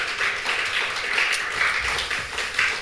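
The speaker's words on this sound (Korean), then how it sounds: "우리 박수 한번 다시 하시죠." A church congregation applauds at the close of a worship camp service, a steady, moderately distant patter of many hands clapping throughout with no voices over it.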